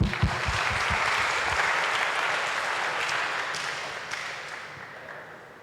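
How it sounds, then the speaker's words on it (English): Audience at a theological talk with a Jesuit priest applauds him, a few loud close claps at the start swelling into sustained, even clapping that slowly tapers off. "So let's again clap for Father Tin."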